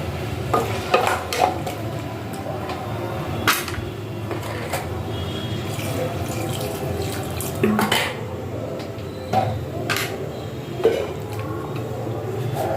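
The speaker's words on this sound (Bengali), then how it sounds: "এবার আমি জল দিয়ে দিচ্ছি সেদ্ধ হওয়ার জন্য" Water goes into a pot of taro being readied for boiling in a home kitchen, a running splash and gurgle broken by a few sharp clinks of metal cookware, with no speech.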